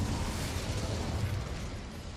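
In the Hogwarts Legacy video game, the Incendio fire spell erupts as a dense, roaring burst of flame that stays loud and fills the whole moment before slowly easing.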